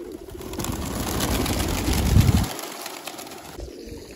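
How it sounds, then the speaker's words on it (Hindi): Pigeons of many breeds gathered at a shrine courtyard, a dense, continuous flock murmur of cooing and fluttering that swells toward the middle, then drops back to a thinner ambient hum. "यहाँ पे हर तरह के हर नस्ल के कबूतर यहाँ पे हैं"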